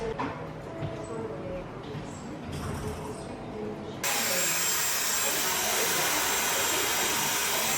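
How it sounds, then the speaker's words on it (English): A hair steamer hisses during a hair mask treatment, a soft broadband hiss that jumps to a louder, steady rush halfway through and continues evenly to the end. "you have like the coolness of the mask and then like the really lovely warm steam"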